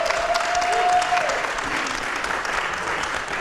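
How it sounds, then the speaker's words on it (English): A live conference audience at the IATP event in Arizona claps loudly and steadily, dense applause filling the room, with a brief voice or tone faintly audible at the start. "Give us a big round of applause."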